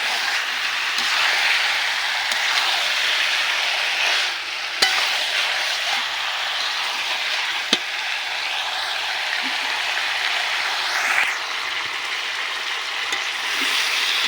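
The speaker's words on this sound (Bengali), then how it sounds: "এখন কিছু সময় হবে নেড়ে চেড়ে মশলা মাংসের সঙ্গে ভালোভাবে মিশিয়ে নিতে হবে" Meat frying with spices in a pan while being stirred, a steady soft sizzle with occasional scrapes and light clicks, close and continuous with no talking.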